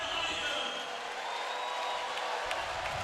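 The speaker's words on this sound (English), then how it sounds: "You can tell the crowd is super excited." A crowd cheers at an SLS skateboarding championship, a steady broad wash of cheering with a faint whistle and a voice talking over it.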